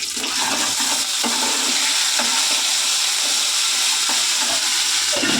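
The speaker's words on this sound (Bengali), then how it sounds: "মশলা খুব ছিটকাচ্ছে" Spices spatter and crackle in hot oil while frying for an eggplant curry, a loud, dense, continuous sizzling hiss with scattered sharp pops, close by and with no voices.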